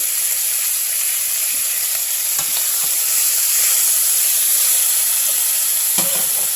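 Chicken pieces browning in oil in a hot skillet, giving a loud, steady sizzle and crackle throughout, with a brief clatter as a piece is turned.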